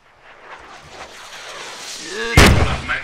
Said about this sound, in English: There's rocket artillery.